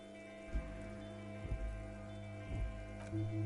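Steady rain falls in the video game Disco Elysium, a soft continuous patter with a few louder drops, heard alone under a faint tonal background hum.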